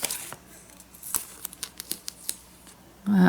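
Scissors cut tape in a string of quick, crisp snips and clicks, spaced irregularly, then a louder rustle at the end; close up, no talking.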